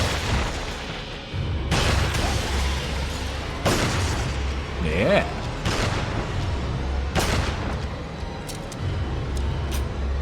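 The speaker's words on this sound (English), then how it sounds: "I've never killed this guy with the hand cannon." The hand cannon in Resident Evil 4 on Professional difficulty fires about five loud, booming shots spaced a couple of seconds apart over a rumbling game backdrop, while a voice briefly speaks.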